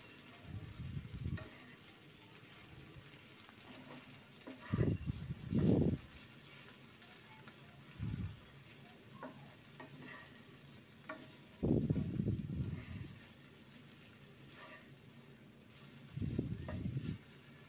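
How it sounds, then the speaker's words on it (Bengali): Okra bhaji (vendi bhaji) frying uncovered in a pan with a soft continuous sizzle, broken by several bursts of scraping and stirring from a spatula at irregular intervals, close and fairly quiet. "এখন আর আমি ঢাকনা দিব না, এভাবেই রান্না করব ভাজিটা হয়ে আসা পর্যন্ত"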